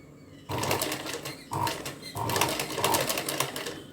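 A sewing machine stitches cord piping onto a blouse neckline in short close bursts. Its motor whirs and needle chatters in several runs separated by brief pauses.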